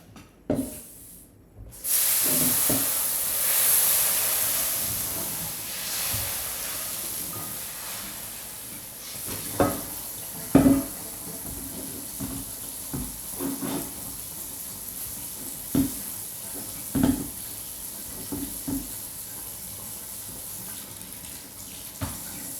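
Hot pan sizzling while cooking steak, a loud hissing burst at first that settles into a steady sizzle with scattered pops and clicks, close by and without talking.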